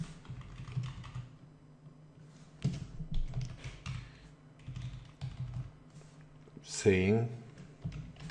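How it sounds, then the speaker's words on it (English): Someone types on a computer keyboard in light bursts of soft clicking, with a voice talking over the keystrokes. "now down here, I'm going to type if condition"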